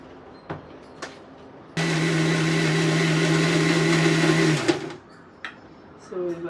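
A kitchen blender whirs steadily for about three seconds while blending cream with a little milk, a loud sustained motor drone that starts abruptly and cuts off, with a few faint clicks and sounds before and after.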